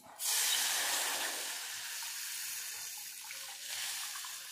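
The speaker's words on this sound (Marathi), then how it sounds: "आता याच्यामध्ये आपण ॲड करून घ्यायचं आहे पाणी" Water poured from a glass into a pan of torn leftover chapati pieces for chakolya, a close, steady splashing pour that starts abruptly and runs for about four seconds, with no talking.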